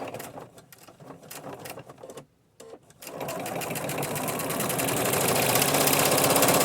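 A sewing machine stitches around a junk journal cover with a steady, close mechanical whir. A brief pause is followed by a longer continuous run that grows slightly louder.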